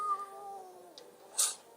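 A cat meows once in a video game, a drawn-out, close and fairly soft call followed by a brief higher rustle.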